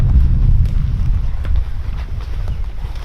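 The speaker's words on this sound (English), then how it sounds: "The wind's gonna blow it." Steady wind buffeting the microphone, a low roaring rumble throughout with faint scattered taps, no talking.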